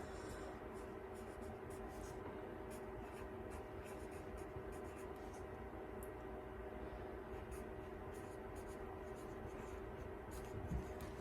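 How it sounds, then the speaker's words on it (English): A pen scratches softly across paper, writing down a book title by hand, in faint, continuous strokes over a steady background hum. "it really shouldn't take that long for me to write down the title and this information"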